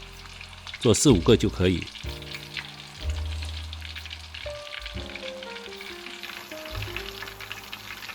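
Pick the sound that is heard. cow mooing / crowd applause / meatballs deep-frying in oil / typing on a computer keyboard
meatballs deep-frying in oil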